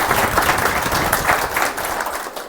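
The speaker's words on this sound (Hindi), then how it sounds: "तो एक बार इनके लिए जोरदार ताली बजा दीजिए।" An audience gives loud, sustained applause, dense, continuous clapping from a large crowd that stays strong throughout and only slightly thins toward the end.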